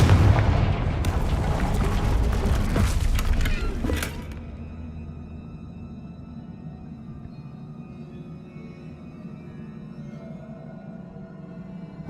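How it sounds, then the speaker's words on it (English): A Confringo fire spell explodes in the Hogwarts Legacy video game during a fight with a troll, a loud rumbling blast with crackling debris that cuts off sharply into a low, quiet ambient hum. "Confringo."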